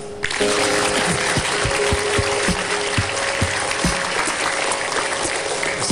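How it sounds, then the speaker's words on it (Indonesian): A television talk-show studio audience breaks into loud, steady applause for a guest who is a knife thrower, a dense wash of clapping sustained evenly for several seconds with a low rhythmic thumping underneath. "Boleh tepuk tangan."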